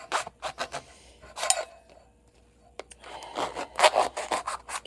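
A knife cuts open a passion fruit, giving a run of close, dry scraping and rasping bursts with a short quiet pause midway, then more cutting and scratching.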